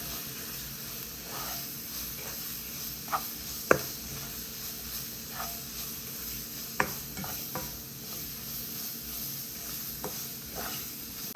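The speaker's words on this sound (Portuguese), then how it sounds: "Esses são os temperos secos que eu vou usar no bacalhau. E aí eu venho mexendo." Cod stirred with dry spices, including saffron, in a pan, a soft continuous sizzle with occasional sharp clicks of the spoon against the pan.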